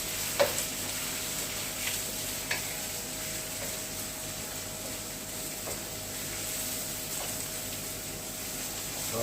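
Steady, fairly quiet sizzle of garlic and onion frying in a pan for a Kapampangan torta, with a few soft utensil taps over the hiss.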